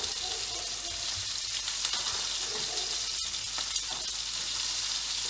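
Butter sizzling in a hot pan while preparing a steak sandwich on a live cooking show: a steady, dense hiss and crackle that continues without a break throughout, with only faint background voice.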